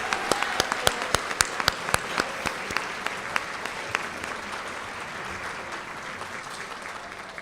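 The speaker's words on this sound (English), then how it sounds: "Please join me in a round of applause for the Menchville High School Chamber Orchestra" A banquet audience applauds a high school chamber orchestra, with crisp individual claps at first blending into a steady wash of crowd clapping that holds to the end.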